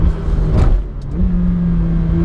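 A McLaren 720S without the optional sports exhaust accelerates hard, its engine a loud, close, steady drone with tones that rise and shift as it pulls.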